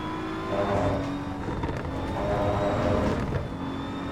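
A GT3 race car in Assetto Corsa EVO clips the inside kerb at Stavelot, its engine droning steadily with a rougher rumbling surge as the wheels ride over the kerb, heard alone and fairly loud.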